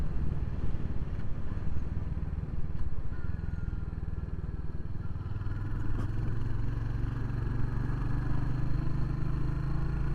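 A Royal Enfield Hunter 350 motorcycle engine idling nearby, a steady low thumping rumble with a deeper tone settling in partway through, continuous and fairly loud with no talking.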